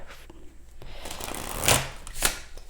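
Tarot cards are shuffled up close, a run of soft riffling and flicking with two sharp louder snaps near the end, and no voice.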